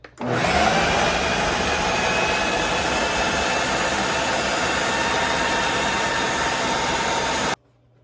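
An electric grinder minces beef keema with green chillies. Its motor gives a loud, steady whir that holds for about seven seconds, then cuts off abruptly into silence.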